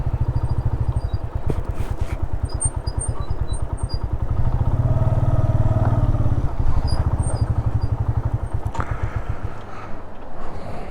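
Motorcycles on the mountain road to Shandur, engines running steadily close by for several seconds with a rapid, even pulse and rattle, swelling louder mid-clip before easing off, outdoors with no talk.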